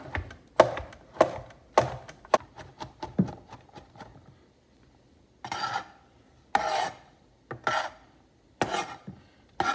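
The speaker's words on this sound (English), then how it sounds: "we're gonna take those mushroom stems and we're gonna chop them up really finely" A knife chopping mushroom stems finely on a cutting board, with a run of quick, close, sharp cuts followed by a few separate scraping or gathering strokes, and no voices.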